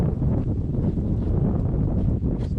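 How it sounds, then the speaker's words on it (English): Wind gusting steadily outdoors on a cold, snowy day with falling temperatures, a continuous loud rushing roar buffeting the microphone, with no voices. "the wind's picking up"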